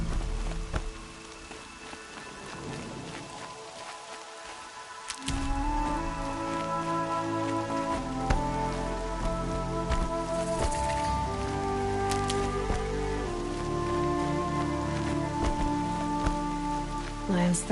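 Rain in the video game Horizon Zero Dawn: a dense, even hiss of falling drops on surfaces that grows louder after a quiet opening, with game music and tones layered over it.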